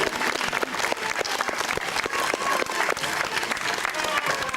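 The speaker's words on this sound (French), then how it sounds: "On peut l'applaudir." Steady, dense applause from a theatre audience honouring the author of the text and the composer of the music after a stage show, filling the whole stretch with many hands clapping at a constant, fairly loud level.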